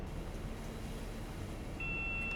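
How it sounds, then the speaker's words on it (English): A warning beep in the Train Sim Classic cab on a Didcot–Paddington run starts late as a steady, fairly clear tone held over the continuous low rumble of the moving train. "I know, stop beeping at me."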